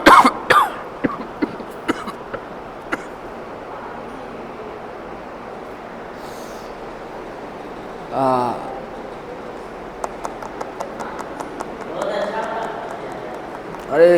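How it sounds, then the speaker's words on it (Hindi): A man coughs several times in sharp, separate bursts, with a throat-clearing rasp partway through and another hack at the end, set against a quiet room hiss with no speech between them. "सॉरी एक सेकंड खांसी आ रहा है"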